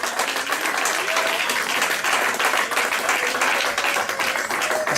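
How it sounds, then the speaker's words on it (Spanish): Church congregation applauds during a Spanish-language sermon, a dense, continuous clapping that fills the space at steady volume for the whole stretch. "Den un aplauso por favor al Señor"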